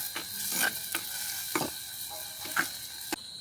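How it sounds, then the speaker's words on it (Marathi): Onion frying in a pan for egg curry, a steady hiss of sizzling oil broken by repeated scraping stirs of a spoon, close and alone with no talk. "कांदा चांगलं लाल करायचं."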